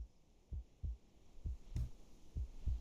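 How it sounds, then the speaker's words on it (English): Low, muffled heartbeat thumps in paired beats at a slow steady rhythm, faint and close under a soft hum, heard through a door in the video game Reverse: 1999. "A heartbeat. Right outside the door."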